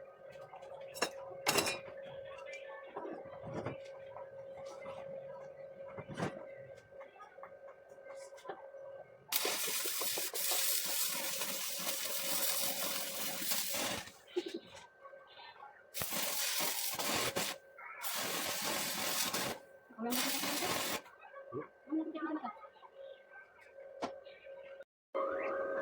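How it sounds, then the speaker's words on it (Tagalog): A 300-amp Lotus welding machine burns through a steel flat bar in bursts of loud crackling hiss that start and stop several times, separated by quieter stretches with a faint hum and brief clanks. "Saglit niya lang binutas yung 1 port na thickness ng ating flat bar."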